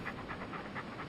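A thick-coated Alaskan Malamute pants rapidly in the heat on tropical sands. The quick, even breaths are close to the microphone, about four to five per second, and are heard alone.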